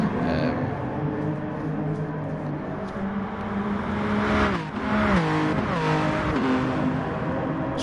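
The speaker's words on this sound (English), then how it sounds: "we're hearing the thunderous roar of these BMW Group X cars light up the streets of France" BMW race cars roar through street circuits in France in a racing video game, engines revving and sweeping in pitch as they accelerate, with commentary talk running over them.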